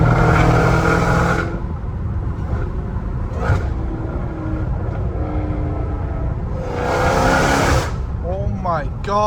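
A Dodge Challenger Hellcat Redeye's engine rumbles loudly up close, rising in two hard revving bursts with a supercharger whine over the roar, and voices speak over it.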